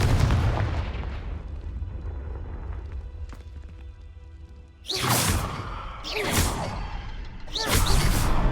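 In Hogwarts Legacy, the Confringo explosion spell goes off as a loud, close blast, followed by three rapid whooshing, booming impacts over rumbling background game sound.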